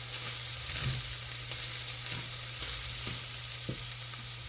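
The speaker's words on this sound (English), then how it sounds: "I'm going to go ahead and continue stirring the meat" Cooked ground meat and peppers for sloppy joes being stirred in a pan, a low continuous sizzle with a steady hum and a few soft scraping strokes of the spoon, close and fairly quiet, no talking.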